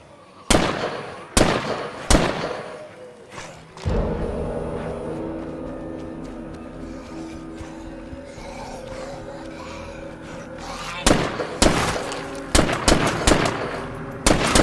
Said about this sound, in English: try not to fire off your weapons like that, especially when there's a horde nearby